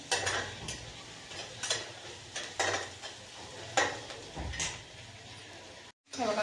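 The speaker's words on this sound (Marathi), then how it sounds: "टमॅटो कांदा टमॅटोला चांगलं परतून घेऊया आपण" Onion and tomato sautéing in a pan for an okra curry, with a spatula scraping and clinking against the metal in repeated strokes, plus a low background sizzle.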